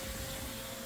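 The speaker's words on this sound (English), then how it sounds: "We're vacuuming everything out." A vacuum cleaner runs in a construction company's shop, a steady close drone with a broad hiss that holds level for under a second without a break.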